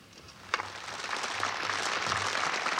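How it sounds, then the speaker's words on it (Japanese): Audience applause swells at a boat racing trainee graduation ceremony marking the 61st class's commemorative race, beginning with a sharp clap burst and settling into a steady, dense wash of clapping. "盛大な拍手ありがとうござい"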